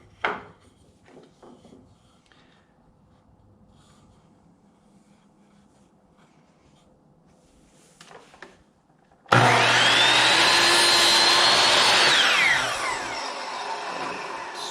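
Power saw cutting straight through a 2x6 wood piece, quiet handling noises first, then a sudden loud whining cut lasting about three seconds before the blade winds down.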